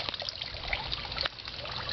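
Water trickles steadily in a backyard garden water feature beside a pond, a soft continuous close stream with small splashes and no talk.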